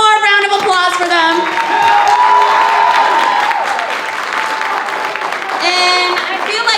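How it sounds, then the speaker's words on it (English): A live audience gives students a full round of applause with cheering, loud dense clapping sustained throughout, with a voice briefly audible at the start and end. "Let's give it one more round of applause for them"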